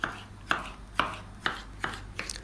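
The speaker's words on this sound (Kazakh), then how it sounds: "қызыл болгар бұрышын осылай майдалап турап аламыз" Red bell pepper finely chopped with a knife on a board, about six crisp, evenly spaced cuts roughly half a second apart, close and clear with no talking.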